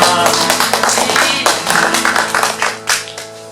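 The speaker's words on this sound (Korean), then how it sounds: "영광의 박수를 드립니다" A church congregation claps along in rhythmic bursts during a Sunday worship service, loud and close, over sustained worship music with held organ-like tones underneath.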